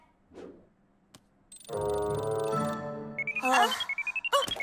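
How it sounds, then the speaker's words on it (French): A reminder alarm goes off in a children's cartoon, a bright rising electronic tone with steady harmonics that turns into a rapid run of repeated beeps, close and fairly loud, after a short breathy sound. "C'est mon alarme de rappel"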